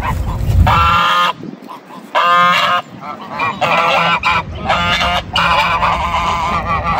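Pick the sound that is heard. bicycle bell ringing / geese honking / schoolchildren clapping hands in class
geese honking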